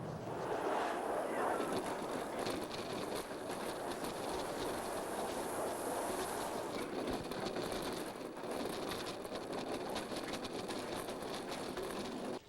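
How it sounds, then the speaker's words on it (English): A steady rumbling roar of a Disneyland Paris roller coaster train running along rails, continuous and fairly loud, with a rattling, clattering texture throughout. "The train comes along a flat section."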